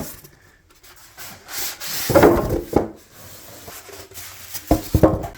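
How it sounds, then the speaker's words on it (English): Foam protective packaging is pulled off the edges of an 85-inch TCL TV, giving close, irregular squeaky rubbing and scraping bursts between quiet pauses. "Now we're going to be removing the foam protective casing from around the outside edges."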